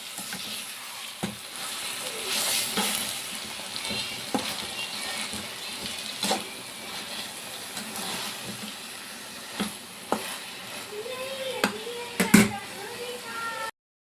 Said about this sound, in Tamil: இதை நம்ம கொட்டிடலாங்க கொட்டிட்டு கொஞ்சம் வதக்கிடலாம் பச்சை வாசனை போகிற வரைக்கும் நல்லா வதக்கிக்கலாம்